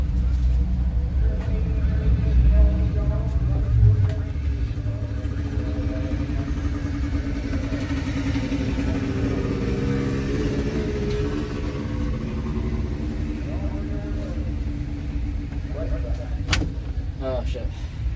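A bracket racing car engine rumbles loudly from inside the car during burnouts at a drag strip, a steady throbbing roar with clattering and mechanical noise throughout.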